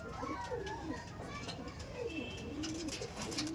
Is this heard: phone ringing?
no